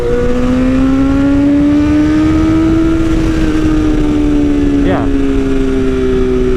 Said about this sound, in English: Those are successive clutchless downshifts.